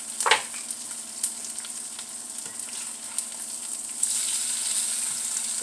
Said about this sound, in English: This is more like a sizzle egg.